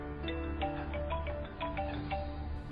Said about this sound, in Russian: Опять звонит.